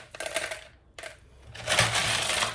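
Expanded clay pebbles poured into an orchid pot, two short rattling pours of hard little pellets clattering against plastic, then a longer, heavier rushing pour close by.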